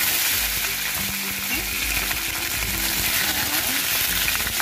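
Green chillies and curry leaves crackle in hot oil, giving a loud, dense and unbroken sizzle heard up close throughout, with nobody talking.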